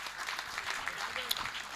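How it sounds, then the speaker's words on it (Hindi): Audience clapping at a Hindi poetry recital, a brief patter of applause at moderate level with a voice audible alongside it. "एक बार तालियां बजा दीजिए मेरी बात पर"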